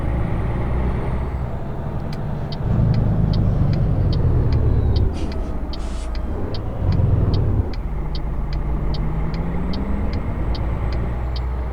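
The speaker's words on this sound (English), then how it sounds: "I think for the game you just drive in." A video game car rolls in with a steady engine drone that swells twice as it drives in, while a faint regular ticking runs throughout and no one speaks.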